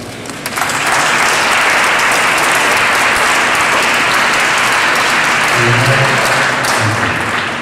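A crowd at a museum exhibition opening in New York breaks into loud, sustained applause, with dense clapping rising quickly after a brief moment and continuing steadily throughout.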